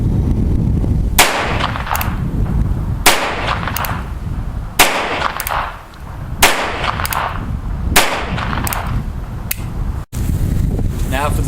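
Sharp reports from a North American Arms .22 revolver firing Federal rounds outdoors, about six shots spaced a second or two apart over a steady wind-like background rush, each crack loud and close.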